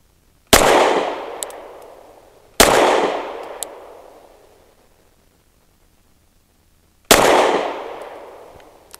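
An EAA Girsan Witness 2311 pistol fires Blazer aluminum 115 grain rounds: three sharp, loud shots at uneven intervals, each trailing a long echoing decay, with no voices.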